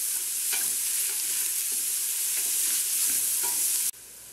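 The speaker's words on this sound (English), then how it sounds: "we're just going to saute them for a couple minutes just to make them soft" A large onion sautés in hot bacon fat, giving a steady, close hiss of frying with soft scraping stirs every second or so; the sizzle drops slightly near the end.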